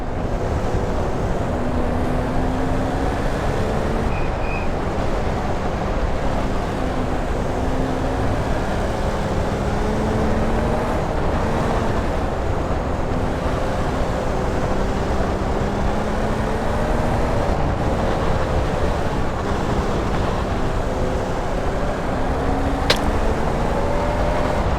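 Onboard race car engine lapping a track, loud and constant, its pitch rising through gears and dropping under braking again and again across the lap, with no talk.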